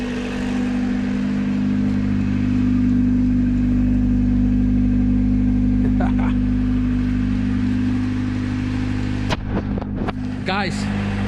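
A junkyard-rescued Honda CRX engine running at a steady idle, a loud continuous low hum throughout, with a few brief clicks and clatters near the end.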